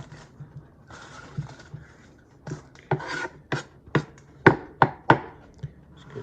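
A knife chops a fresh yellow onion on a cutting board, sparse light taps at first building into sharper, louder strokes in a quickening, irregular rhythm, close up with no voices.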